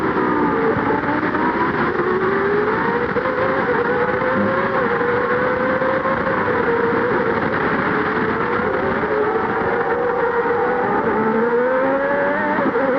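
A Honda V10 Formula One engine at Monza in 1990 screams through the chicane, then climbs steadily in pitch toward 13,000 RPM, loud and continuous onboard with no talking.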